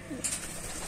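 Fantail pigeons coo in a loft, a short soft call rising once near the start, with a brief brighter chirp-like note just after, over steady low room noise.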